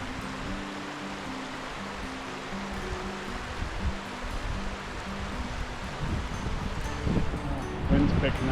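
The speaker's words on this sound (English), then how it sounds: "Wind's picking up." Wind picks up beside a river in Alaska at a backpacking campsite. A broad, steady rush of moving air and water grows louder toward the end, with a voice speaking under it.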